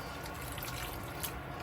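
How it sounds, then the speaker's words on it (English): Water runs steadily into a can from a tap, filling it for cooking rice, a continuous close splashing rush with no one speaking. "Fill the can again, so this is gonna be 2 cans of the water"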